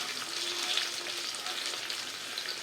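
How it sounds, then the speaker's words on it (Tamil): Turmeric and sambar powder hit hot oil for pumpkin vatha kuzhambu, producing a continuous, fairly loud frying sizzle with faint stirring, no voices. "இப்போ நான் இந்த பொடியெல்லாம் போட்டுடுறேன் மஞ்சள் பொடியும் சாம்பார் பொடியும்"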